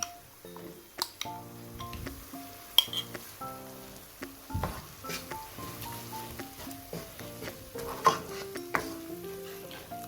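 Ground masala frying with softened onions for a prawn ghee roast gives a soft, continuous sizzle with scraping stirs and light pan clinks, all low under louder tuneful background music.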